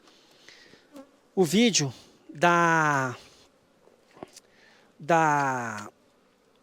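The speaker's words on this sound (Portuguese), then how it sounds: "Eu vi bastante abelha sobrevoando aí" Bees around a new apiary buzz in a few loud close passes, each swelling and fading over a second or so, with faint background hum between and a brief word spoken.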